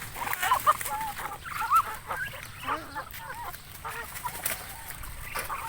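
Brahma chickens being fed bread cluck and murmur close by in a busy, overlapping flock, soft chatter with occasional sharper calls and no clear talking.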